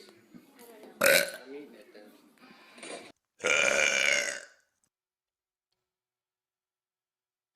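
A person lets out a loud, rough burp after a brief burst of talk. A second, longer drawn-out belch follows a moment later, then silence.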